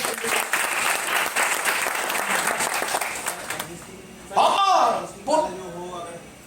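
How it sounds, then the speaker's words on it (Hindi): Audience clapping for LIC at an insurance talk, a steady round of applause that fades out, followed by someone speaking briefly over the quiet room. "ताली बजाइए LIC के लिए"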